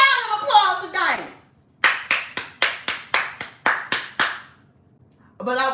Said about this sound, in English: Round of applause tonight.